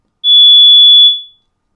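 A pure 3,430 hertz tone from a frequency generator sounds alone, loud and perfectly steady for about a second before fading out smoothly.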